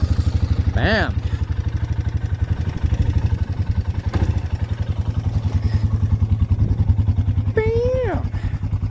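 A rebuilt quad ATV idles steadily in neutral while warming up after being choked, a close, even putter running throughout as someone talks briefly over it.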